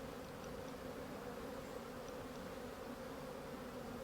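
Honey bees buzzing in an opened hive that has grown too strong and needs splitting, a steady even drone of many bees close by with no voices.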